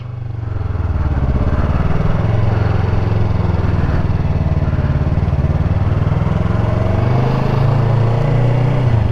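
A motorcycle engine drones loud and steady from a close, onboard position while the rider picks up speed, its low tone rising slightly and holding for several seconds.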